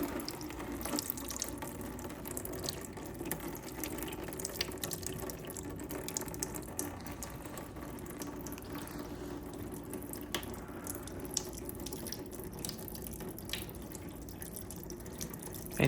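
Coolant draining steadily from a 2018 Honda Africa Twin motorcycle, a continuous close trickle and splash of liquid running for the whole stretch without talk.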